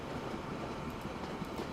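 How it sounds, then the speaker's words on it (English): A train in the Train Fever strategy game cruising along at high speed, a steady, dense rumble of rolling rail noise that holds evenly throughout with no voices. "We really cruise with these new trains"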